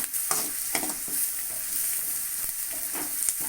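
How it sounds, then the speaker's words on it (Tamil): Masala mixed with onion and tomato is stirred in a frying pan as a pumpkin stir-fry cooks. Scraping strokes of a spoon repeat over a steady close sizzle. "இந்த மசாலா கலவையை இது கூட சேர்த்துடலாம். நல்லா கிளறி விட்டுட்டு"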